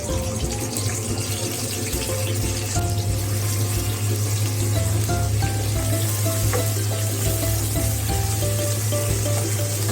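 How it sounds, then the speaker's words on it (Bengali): Chopped onions fry in hot oil in a frying pan for a spicy broiler chicken bhuna, a dense, steady crackling sizzle with a watery hiss that carries on loudly and evenly throughout, with no talking. "তেলটা একটু গরম হয়ে আসলে এর মধ্যে কুচি করে রাখা পেঁয়াজগুলো দিয়ে দিব।"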